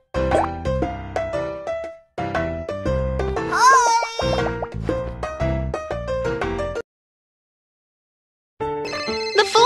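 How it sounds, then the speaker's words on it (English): A cartoon phone rings with a bouncy, musical chiming tune that plays in long phrases, falls silent for a couple of seconds, then starts again loudly. "Ringing. Let's see who's calling."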